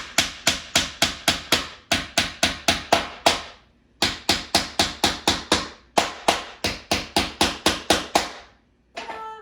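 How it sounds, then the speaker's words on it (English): A hammer drives nails into wooden boards for a porch sign: close, loud, rapid strikes in bursts of about five to eight blows, with brief pauses between groups. "I'm going to nail all those together, okay?"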